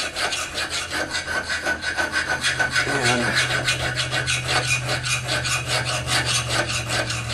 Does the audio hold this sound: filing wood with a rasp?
yes